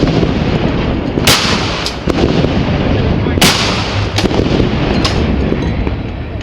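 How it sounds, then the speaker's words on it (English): Field cannons fire a volley at an Army football game, several sharp loud booms spaced irregularly over a steady roar of crowd noise. "we also shoot volley fires at the end of the half and at the beginning of the game"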